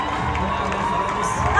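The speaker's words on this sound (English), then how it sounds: "the crowds of people who gathered for them in Hostage Square in Tel Aviv" A large crowd in Hostage Square, Tel Aviv, cheers for returning hostages, a dense continuous roar of voices and shouts that stays steady and swells slightly at the end.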